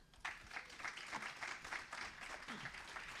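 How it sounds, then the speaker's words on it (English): Audience applause for David Ziskind at a 2024 cultured meat symposium, a steady patter of many hands clapping at moderate volume throughout, with faint voices mixed in. "let's give it a round of applause for David"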